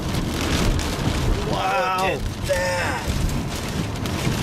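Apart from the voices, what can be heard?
heavy rain during storm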